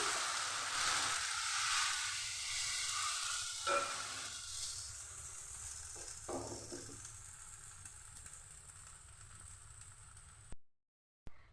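Spoonfuls of carrot pitha batter hit a hot pan with a loud hiss that slowly fades to a softer, steady sizzle, broken by a few clinks before a brief silence.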